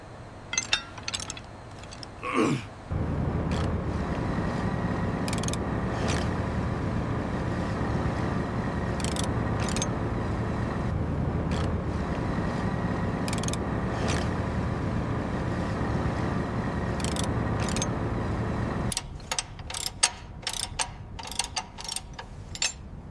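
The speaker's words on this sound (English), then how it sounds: "Hand me the big pipe wrench. We need to loosen this connection now." On a deep-sea abalone fishing boat, a big pipe wrench works at a seized gear connection, giving steady grinding and ratcheting mechanical noise with sharp metallic clicks and knocks throughout, all at close range.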